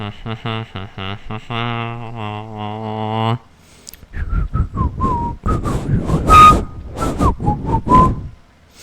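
A person whistles a short, bright melody of quick repeated notes and then a few longer held tones, after which speech takes over with faint whistled pitches woven through it.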